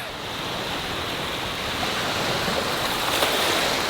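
Ocean waves wash onto a wide white sand beach on a Cambodian island, a steady broadband roar of surf with no breaks and no voices.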